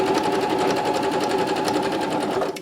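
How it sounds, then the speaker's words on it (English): A sewing machine stitches cloth diaper fabric in a steady, fast mechanical chatter, close and even, stopping abruptly at the end. "I'm going to actually sew this about 3/8 of an inch away from the edge as well"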